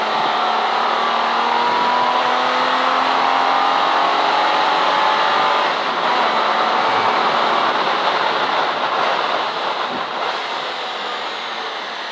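A V12 race car at Silverstone circuit in a CSCC Modern & Future Classics race howls steadily and loudly throughout, a sustained high-pitched engine drone that fades only slightly toward the end.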